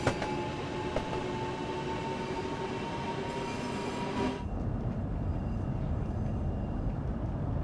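An LNER train runs past at a station, a steady loud rolling roar with whining tones for the first few seconds before the sound shifts to a deeper rumble.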